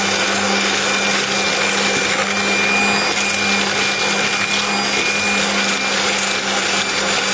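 Electric mixer whipping cold coconut cream: a loud, steady motor whir runs unbroken throughout, close and without talk.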